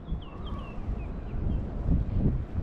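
Outdoor wind on a fishing outing makes a low, rumbling gusty roar against the microphone, swelling and fading with no talk, with faint high bird chirps above.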